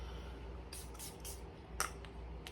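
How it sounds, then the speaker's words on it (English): Several quick hissing sprays from a small pump bottle, short bursts spaced irregularly, close and fairly soft over faint background hum. "That smells good. I'm gonna spray some more."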